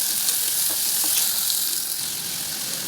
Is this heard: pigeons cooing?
no